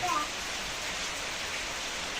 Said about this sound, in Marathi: आता पाऊस चालू झाला आता पाऊस पडाला तर गार गार वाटतं